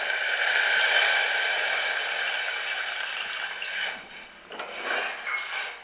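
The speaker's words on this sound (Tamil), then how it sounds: "கொஞ்சம் தண்ணி ஊற்றிடுறோம்." Water is poured into a cooking pot of horse gram for a Tamil kollu kuzhambu, a soft steady splashing rush that tapers and breaks into a few uneven splashes toward the end, with no talk over it.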